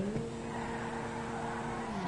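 A race car's engine in a racing video game, heard from a first-person setup as the throttle is floored, a steady, loud droning whine with rising harmonics and no voices over it.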